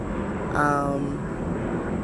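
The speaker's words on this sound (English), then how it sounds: "there's an airplane flying overhead" Fixed-wing airplane passing overhead outdoors, a steady broad engine drone with a brief swell of tonal whine, fairly distant and continuous behind a noisy open-air background.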